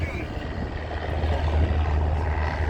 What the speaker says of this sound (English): And then you'll notice the propeller begin to turn.